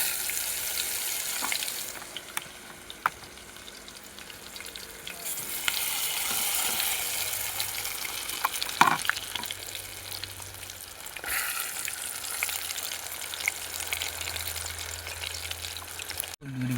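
Tomatoes fry in a pan with a soft, continuous sizzle, fairly quiet, with occasional clinks and stirring noises rising and fading across the stretch.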